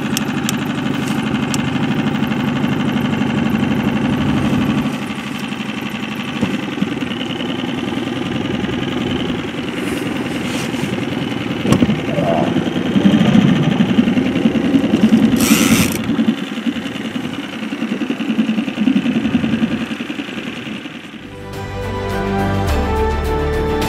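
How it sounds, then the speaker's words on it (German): A boat motor starts and runs on a river while anglers fish for catfish from the bank, giving a steady low engine drone throughout with a brief louder surge midway. "Ich muss jetzt mal einen Motor anmachen, weil oben kommt ein riesen Schubschiff."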